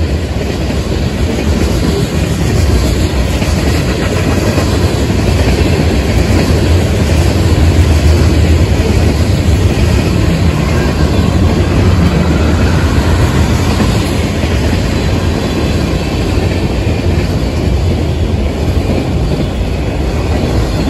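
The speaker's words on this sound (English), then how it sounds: "I was able to hit record on my cell phone in time to see CSX L457 as he thundered his way across Go Down Road" CSX freight train L457 thunders across Go Down Road at a road crossing, a loud, steady and close rumble with continuous wheel clatter that holds for about twenty seconds without any voices.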